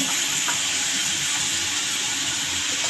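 Onion sautéing in a pan for a red amaranth vegetable dish makes a dense, even hiss of frying that holds steady and fairly loud throughout.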